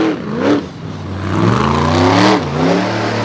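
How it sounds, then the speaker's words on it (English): Big alcohol-fuelled blown engines roar around a loose dirt oval at night, pitch dipping and climbing as cars rev through the turns, loud and close with overlapping engine notes and no talk. "It's actually probably helping them make horsepower with these big alcohol blower motors."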